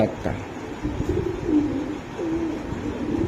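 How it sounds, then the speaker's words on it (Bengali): A racing pigeon of a Kital bloodline coos in soft, low, repeated calls close by, with someone talking over it throughout. "কিটাল ব্লাড লাইনের কবুতর একটা ভালো মানের পাইট রেসার"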